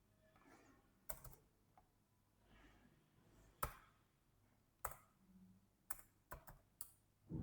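Separate keystrokes as numbers are typed on a computer keyboard into an Excel spreadsheet: sharp, close clicks arriving in irregular small clusters over a quiet room background, with no speech.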